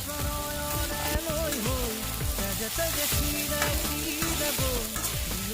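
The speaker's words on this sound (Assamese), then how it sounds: "আৰু এতিয়া ইয়াতে পাস্তাখিনি দি দিম আৰু তাৰপিছত গোটেইখিনি ভালদৰে লৰাই দিম এনেকৈ" Pasta stirred and fried in a pan on a stove, with a continuous close sizzle and spatula movements over a steady tonal background.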